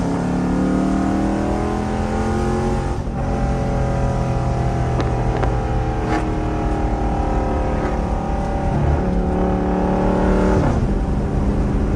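A Dodge Charger R/T engine revs hard from inside the cabin, the pitch climbing then dropping briefly as gears shift, loud and continuous.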